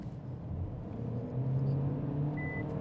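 An MG One 1.5T CVT crossover floored at full throttle, its engine a muted, steady low drone swelling slightly from inside the cabin, with a brief electronic warning chime near the end.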